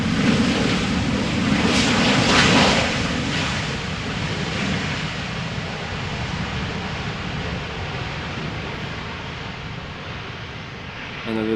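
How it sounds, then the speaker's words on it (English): A Georgian Airways airliner arriving at Amsterdam Schiphol from Tbilisi, its jet noise loudest early in a swelling roar, then settling into a softer steady rush as it passes, with no speech. "Georgian Airways arriving from Tbilisi."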